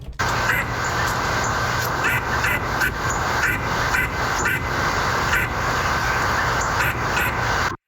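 Duck quacks run through a robot filter effect, a fast string of loud squawking calls with a buzzy, synthetic edge over a constant noisy bed, continuing steadily until an abrupt stop.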